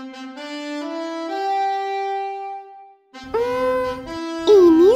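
Saxophone playing a slow, close melody of sustained notes gliding between pitches, then a brighter, louder passage with bends and a rising wail, alone without voices.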